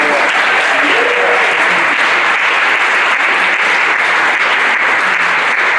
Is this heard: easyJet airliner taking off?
no